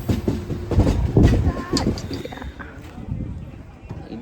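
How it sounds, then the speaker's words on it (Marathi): A Konkan Railway passenger train pulls away from Chiplun station heading toward Ratnagiri, with a rumbling rhythmic clatter of wheels and carriage heard from inside, loudest at first and easing off, with voices talking over it. "आत्ता आपली गाडी निघाली चिपळूण स्टेशनवरनं रत्नागिरीच्या दिशेने"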